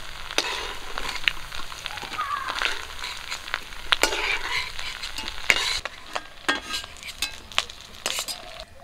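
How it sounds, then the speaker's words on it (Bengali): Fish roe fritters fry in hot oil with a steady, crackling sizzle, near and loud, broken by scraping stirs and sharp clinks of a metal utensil against the pan. "সবগুলো বড়া আমার ভাজা হয়ে গেছে।"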